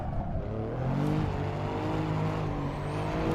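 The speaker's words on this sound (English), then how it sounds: "It's a turbocharged V6 that's not revving particularly high" Turbocharged V6 of an Alfa Romeo Giulia Quadrifoglio in the Assetto Corsa racing game, a steady mid-range engine drone with rising and falling harmonics at moderate revs, loud and continuous without talk.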